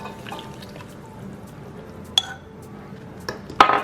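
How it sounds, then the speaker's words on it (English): Wet ingredients poured into a bowl of flour and salt for sour cherry piroshki dough. A soft, faint trickle with a few sharp clinks of a dish near the end. "we're gonna add everything to our flour with salt"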